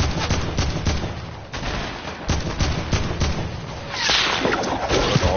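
Sniper shots and bursts of gunfire in a video game battle near a bridge, a dense stream of sharp cracks and rapid automatic fire close by, growing louder and busier toward the end.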